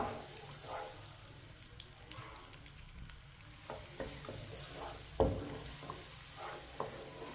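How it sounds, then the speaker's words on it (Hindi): Finely chopped onion browns in a pan with a soft, continuous sizzle while a spoon stirs it. Scattered quiet scrapes are heard, and one louder knock comes near the end. "प्याज को हल्का सा ब्राउन कर लेंगे। इसे ऐसे ही चम्मच चलाते हुए ब्राउन करना है।"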